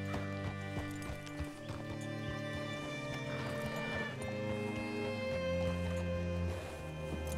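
Horse hooves in the video game Red Dead Redemption 2 clip-clop steadily beneath a loud, sustained musical score, the footfalls fairly faint and partly masked by the music.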